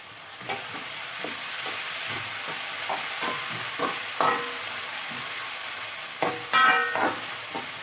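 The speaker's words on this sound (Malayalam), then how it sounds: "അതിലേക്ക് നമുക്ക് ഇത് അരച്ച് വെച്ചേക്കുന്ന തക്കാളിക്ക പേസ്റ്റ് അതിലേക്ക് ഇട്ട് കൊടുക്കുക" Tomato paste being stirred into a frying anchovy masala gives a continuous sizzle with repeated scraping and clinking spoon strokes against the pan, close and moderately loud, with no voices.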